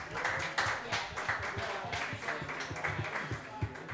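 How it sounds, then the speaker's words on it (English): A crowd applauding a back-to-back state champion boys' lacrosse team: steady, dense clapping that holds at an even level for the full stretch, with individual hand claps popping out of the wash. "Please give them a round of applause."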